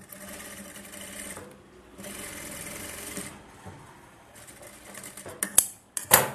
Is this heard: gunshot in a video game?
no